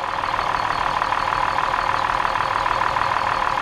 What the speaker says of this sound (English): Okay, the engine RPM's dropped off.